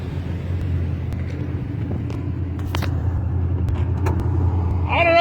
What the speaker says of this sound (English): We're going to go for a Superbird ride in the snow.